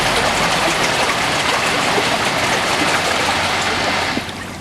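Water rushing steadily from the swim-current jet of a 12-foot Fun SwimLife all-season above-ground pool, a dense, continuous churning flow close by that drops slightly in level near the end.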